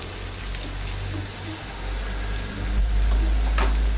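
Cashews frying in a pan for rava pongal, a steady close sizzle and crackle with a deep rumble that swells louder toward the end, no talk over it.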